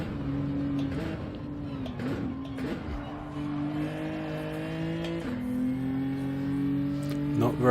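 A car lapping the Nurburgring in a qualifying session, its engine drone steady and loud throughout, shifting pitch with gear changes and brief dips, with occasional tire noise.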